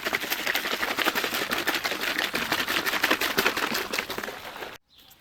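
Rapid, steady rattling of a shaken spray can, a dense run of clicks lasting several seconds before stopping abruptly.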